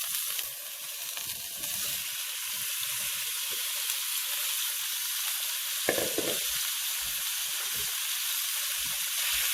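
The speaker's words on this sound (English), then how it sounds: "Now I'm going to start adding all my beef chunks." Beef chunks hit a very hot pan over high heat and sear with a loud, steady sizzle and hiss, with a few brief pops and stirring clatters as the meat cooks.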